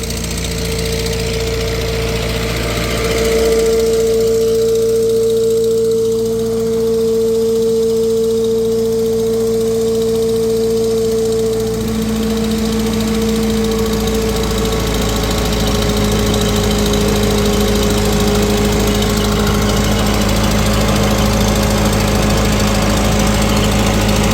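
An old tractor engine runs steadily on a dyno, a continuous mid-pitched hum with faint knocking, level and close, with no talk.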